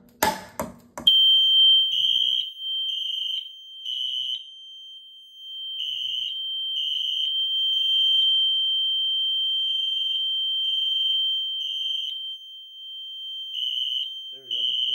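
A Notifier SFP-1024 fire alarm system sounds after a pull station is pulled. Following a few clunks, a high, steady tone pulses in a repeating three-beat temporal pattern for about fourteen seconds, loud and alone.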